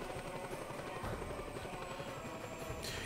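A helicopter flies in the video game Just Cause 2, its steady rotor thrum and engine drone running continuously and evenly at a constant level throughout, with no voices.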